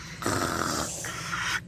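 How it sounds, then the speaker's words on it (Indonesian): A person asleep snores in two long, rasping, throaty breaths close by, with a brief pause between them. "Coba ngorok."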